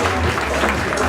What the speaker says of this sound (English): Round of applause for Big Lee once again